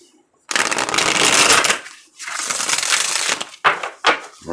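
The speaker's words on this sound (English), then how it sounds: "One more shuffle." Tarot cards are shuffled in several quick bursts, a crisp rustling riffle up close, followed by a couple of short sharp card taps.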